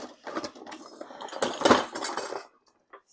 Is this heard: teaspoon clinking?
yes